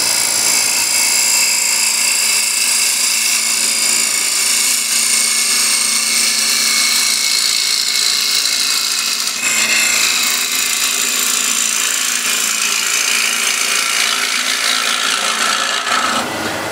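Sharp woodturning gouge cutting a spinning workpiece on a lathe, a continuous bright rasping hiss that holds steady, briefly dips near the middle, then carries on before stopping at the end.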